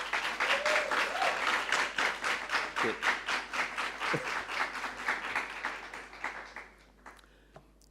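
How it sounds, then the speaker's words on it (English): Students at a campus network launch clap to welcome special guests, starting as a full, steady round and thinning into slower, separate claps that fade out near the end, with brief voices underneath. "let me hear you welcome our special guests with a big round of applause"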